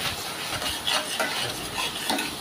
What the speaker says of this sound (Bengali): জিরা বাটা, শুকনো মরিচের গুঁড়া এবং ধনে গুঁড়া দিয়ে খুব সুন্দর করে নেড়ে চেড়ে মশলাটা